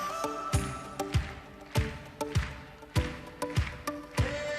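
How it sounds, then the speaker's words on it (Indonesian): A church congregation claps hands in a steady rhythm along with live worship music, each sharp clap landing on the beat against sustained tones from the band. "Yang setuju tepuk tangan dong"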